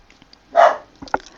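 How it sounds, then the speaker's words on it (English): A single dog bark rings out at moderate distance in a quiet indoor room, followed by a couple of soft thumps or yips, brief and fairly loud against near silence. "Sorry, bark alert."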